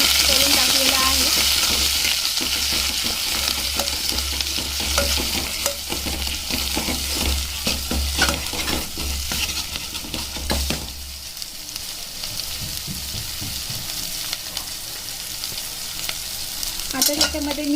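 Onion-coconut paste for Pune-style homemade misal fries in a pan. A loud, continuous sizzle runs throughout, with frequent scraping stirs that ease off toward the end.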